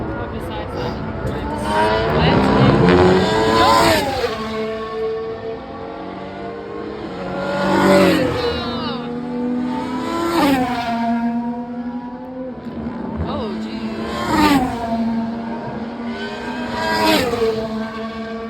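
Race cars at the Austin Grand Prix sweep past one after another, about four loud passes with rising then falling engine whine, and voices murmuring underneath.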